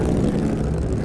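An airbike in the video game Star Atlas powering up, giving a steady, loud engine drone with a propeller-like hum that holds even throughout, with no talking over it.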